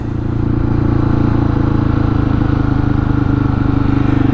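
A supermoto motorcycle engine runs loud and close, revving hard at high throttle with a steady, rough, buzzing drone throughout, as if pulling up for a wheelie.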